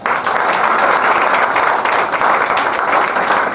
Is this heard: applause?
yes